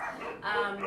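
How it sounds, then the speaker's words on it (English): A neighbour's dogs barking, a short burst of tonal barks heard at moderate distance behind a faint indoor room tone. "I also apologize if you hear dogs barking, because those are my neighbor's dogs."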